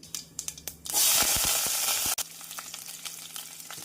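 A loud burst of sizzling as onions, green chillies and curry leaves hit hot oil with mustard seeds, hissing strongly for about a second before settling into a steady, quieter frying crackle.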